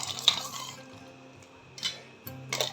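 A spoon stirring a sabja seed lemonade drink with ice cubes in a glass, making light clinks and swishing scrapes in a few short bursts, close and fairly quiet, with no talk.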